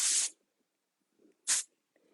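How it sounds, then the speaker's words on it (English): Hairspray misted onto the back of a comb during a short layered haircut: two sharp, close hissing bursts, each about a quarter second, separated by a pause with faint rustling. "spray the back of your comb, and kind of push that in"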